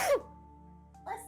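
A very soft, brief sneeze comes at the start over a low electrical hum, then a short breathy sound follows a second later.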